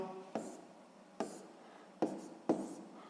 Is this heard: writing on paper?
yes